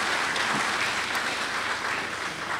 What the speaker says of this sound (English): And so everybody started applauding